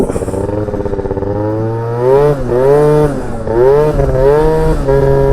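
A Yamaha Jog scooter with an upgraded clutch and variator revs loud and close. Its buzzing engine note surges upward in several repeated rising pulls as it accelerates hard.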